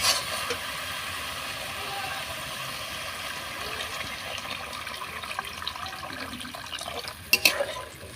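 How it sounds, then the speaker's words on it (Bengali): Water poured into oil-separated fried masala for a pomfret (rupchanda) fish curry, a steady continuous running and bubbling wash throughout, with a brief clatter near the end. "এবারে জল দিয়ে দেবো।"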